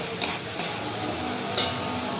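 Spices for khichuri, including turmeric, chilli powder and roasted cumin, fry in a pan with a steady soft sizzle, punctuated by a few sharp spoon clinks and scrapes.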